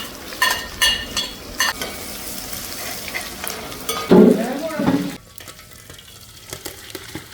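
Tempering of mustard seeds, shallots and dried chilies in coconut oil sizzles in a pan, with a clear sizzling and stirring burst midway and scraping, clattering sounds around it, close and moderately loud.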